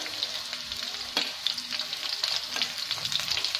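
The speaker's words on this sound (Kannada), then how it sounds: "ಸೊ ಇದು ಸ್ವಲ್ಪ ಫ್ರೈ ಆದಮೇಲೆ ನಾನು ಆನಿಯನ್ ಅನ್ನು ಹಾಕೊಳ್ತಿದ್ದೀನಿ." Chopped onion frying in hot oil in a pan for egg fried rice, a steady close crackling sizzle with occasional stirring scrapes, no talk.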